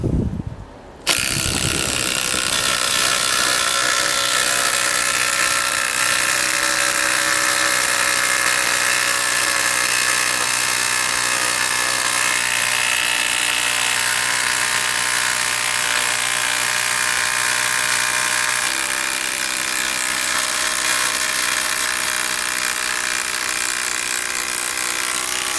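Makita TD002G high-torque impact driver runs continuously for about twenty-five seconds, a loud dense buzzing hammer sound that barely changes pitch as it struggles a little driving a large fastener, starting after a short gap.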